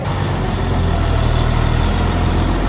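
A tractor engine runs steadily and loud, a close, constant low diesel rumble with no breaks or voices over it.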